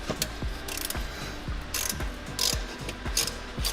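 A hand ratchet loosens the last wheel nut on a 9th generation Toyota Corolla, giving a steady run of clicking pawl strokes at an even rhythm, close and clear with no talking.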